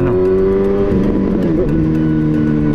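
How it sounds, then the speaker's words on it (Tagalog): A loud, steady motorcycle exhaust drones close by while riding, with a slight dip and shift in pitch partway through. "ng ingay ng tambucho"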